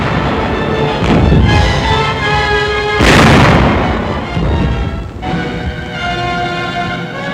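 Tank guns of an armored force fire in 1944 newsreel footage, a dense loud roar of blasts and rumbling with a heavy boom near the middle, continuous throughout.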